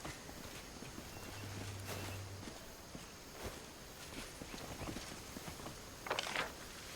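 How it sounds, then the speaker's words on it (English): Horse hooves clip-clop in the fantasy role-playing game Pathfinder: Wrath of the Righteous, a faint, steady walking rhythm set low under a quiet ambient bed, with a brief brighter burst near the end. "Horse!"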